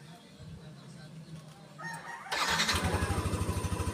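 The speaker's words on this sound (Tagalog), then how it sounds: "Nandar na po ang ating motorsiklo" A motorcycle engine cranks and then catches, settling into a steady, pulsing idle, while a rooster crows in the background beforehand.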